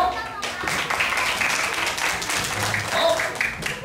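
A small audience claps at a family party, a loose burst of applause that runs under chatty voices and laughter for several seconds.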